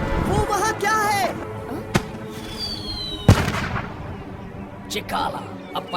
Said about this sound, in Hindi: अब पटाखों से खेलना बंद करोगे?